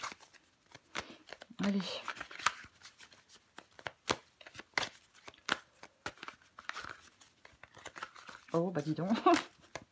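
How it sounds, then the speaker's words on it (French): Tarot cards handled and laid face down during a weekly Capricorn tarot reading, with intermittent papery rustles, flicks and slaps in short bursts, partly under a speaker's talk. "Je vais recouvrir des cartes."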